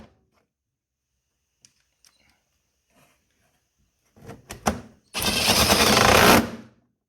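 Two 10mm bolts go back into a truck radiator shroud on an S10 pickup: a few soft taps and clicks, then a short burst of ratcheting and a loud, sustained power-driver whir lasting about a second.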